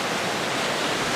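Heavy waves churn on Lake Winnipegosis in wind, making a dense, continuous roar of surf and spray. The sound is loud, close and steady, with no voices.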